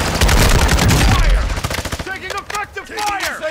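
Rapid bursts of automatic gunfire from Call of Duty: Modern Warfare II multiplayer, loud and dense for the first second and a half, then scattered shots trailing off under in-game sounds.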